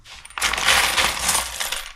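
A handful of loose coins, pennies already picked out, is dropped into a container. Metal jangles and clinks in one bright cascade lasting under two seconds, close and alone.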